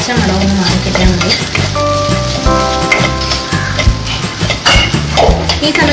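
Grated coconut is stirred and roasted in a pan for Malabar Unnakkaya, giving a steady sizzle with rhythmic scraping strokes of the spoon and a faint tonal hum behind.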